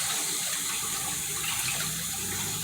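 Tap water runs steadily into a pot to rinse rice, a close, continuous splashing gush with no talk.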